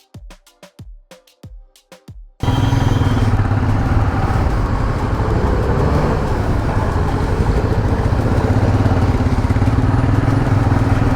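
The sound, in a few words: Royal Enfield Himalayan motorcycle on a test ride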